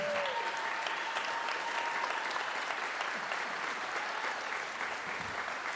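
A school band concert audience applauding after a piece, continuous dense clapping heard from a distance, fairly soft and steady, with a brief tone near the start.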